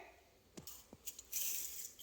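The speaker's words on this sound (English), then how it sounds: "And then I'm going to pour some water." Water splashes and trickles into a container of fenugreek seeds for soaking, a few soft knocks at first, then a steadier pour near the end, fairly quiet.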